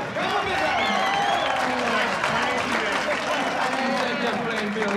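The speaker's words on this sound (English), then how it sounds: "let's give a big round of applause for the one and only Mr." A concert crowd at the Zaire 74 music festival applauds and cheers for a performer. The loud, dense clapping runs for five seconds beneath a voice and other crowd voices.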